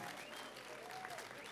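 A short stretch of crowd applause follows a conference talk at a gaming event stage, quiet and steady, with a faint tonal sweep running beneath the clapping.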